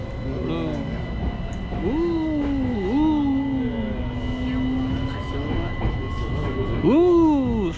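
A Dalian light rail train gets under way, its electric motor whine rising and gliding in pitch over a constant rumble inside the carriage.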